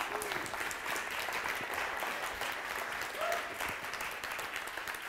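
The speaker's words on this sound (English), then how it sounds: "so let's start with a big round of applause." Sustained audience applause at a creative workflow talk fills the whole stretch, dense steady clapping from a seated crowd, with a faint voice or two briefly heard beneath it.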